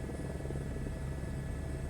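Helicopter rotors in the video game Microsoft Flight Simulator 2024, a steady, loud low thrum with constant rotor chop filling the whole stretch, with no talking.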